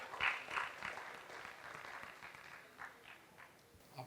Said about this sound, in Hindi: तालियों के साथ उनका अभिनंदन करेंगे